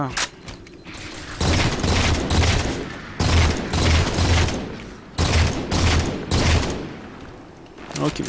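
Battle rifle fire from the video game Halo 4 sounds in repeated loud bursts of rapid shots separated by brief gaps, with a person talking over the gunfire.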